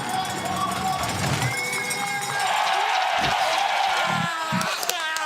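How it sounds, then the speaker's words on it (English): Spectators roar and cheer at the bobsleigh finish area at Königssee during a two-man world championship heat, a loud sustained crowd din with whoops and cowbell-like clanks, with a commentator talking over it. "Listen to the crowd. Watch the crowd here at the finish."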